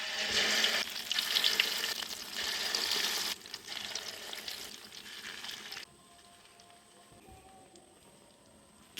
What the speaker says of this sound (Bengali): তেল গরম হয়ে গেছে, পাকোড়াগুলো দিয়ে দিম।